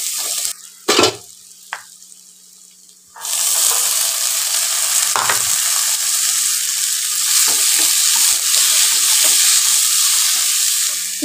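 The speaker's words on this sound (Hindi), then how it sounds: "लहसुन प्याज ब्राउन हो गया तो मैं चौली डाल दूँ इसमें।" After a few quiet clinks, a loud steady sizzle erupts as beans hit a hot pan of browned onion and garlic and keep frying, with occasional stirring scrapes.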